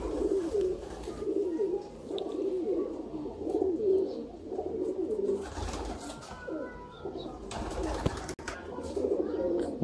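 Ali wala pigeons, a pure Sialkoti breed, coo in soft repeated throaty phrases, some overlapping, with a sharp knock or clap near the end.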